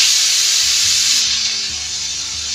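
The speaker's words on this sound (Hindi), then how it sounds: "अब कुकर का ढक्कन लगा देंगे, इसे 2 सीटी आने तक पकाना है।" A pressure cooker, used to cook water chestnut curry, lets off a loud, steady hissing whistle of escaping steam that continues without a break.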